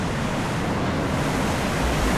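Floodwater from a swollen river in Padang city rushes in a dense, steady roar that fills the whole clip, loud and close with no voices.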